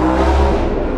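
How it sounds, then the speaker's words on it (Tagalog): A big bike motorcycle's loud exhaust roars close up in a brief, dense rev that holds steady for about a second. "Kaya pala ang ingay nitong exhaust mo, no?"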